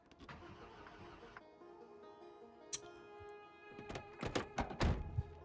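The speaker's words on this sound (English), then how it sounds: "Did the car start?" A car engine starts in the video game Project Zomboid: a steady hum and a door-like thunk give way to a burst of cranking and sputtering, loud and close, with faint talk in the background.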